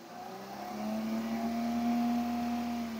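Engine of an older Maruti Alto car revving up steadily, its tone rising and holding for a few seconds, close by with no talking.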